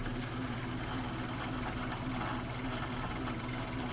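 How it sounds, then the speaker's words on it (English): A Clausing metal lathe runs on an inverter VFD after a rebuild, giving a steady mechanical hum with a fine rapid rattle. The sound stays even and continuous, close and fairly quiet. "We have a running lathe."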